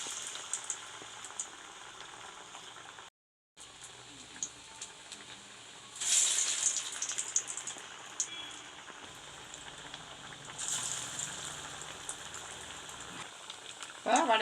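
Sweetcorn vada patties frying in hot oil, a steady crackling hiss that swells louder as more batter goes in, continuing with brief pauses and no talk.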